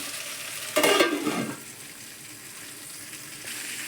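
Food sizzles in a covered pan, giving a steady low hiss with a louder burst of crackling near the start that settles back into a quiet background fry.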